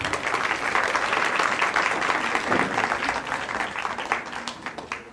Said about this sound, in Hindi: एक बार अपने लिए तालियां बजा दीजिए